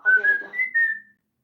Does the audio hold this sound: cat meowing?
no